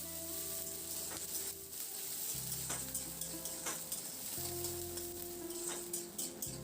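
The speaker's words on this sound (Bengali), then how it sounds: "এবার পেঁয়াজটা দিয়ে মিনিট 2-3 জন্য নাড়াচাড়া করে একটু ভেজে নেব।" Chopped onion fries in hot mustard oil while being stirred for a few minutes: a steady close sizzle with scraping spoon strokes against the pan and a faint tonal hum underneath, no talking.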